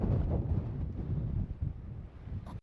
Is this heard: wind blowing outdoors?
yes